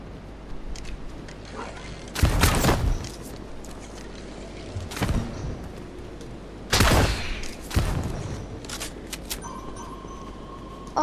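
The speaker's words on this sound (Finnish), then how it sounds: "Mä tuurilla vaan ammuin ja mä sain" Gunfire in a Fortnite Prop Hunt match: a few separate loud bursts of shots at irregular intervals, with quieter game sounds between them.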